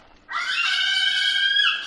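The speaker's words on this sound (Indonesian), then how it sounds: "crested cockatoo atau kakatua" A single loud, harsh, sustained Moluccan cockatoo screech starts abruptly and holds for over a second before fading slightly, in an aviary.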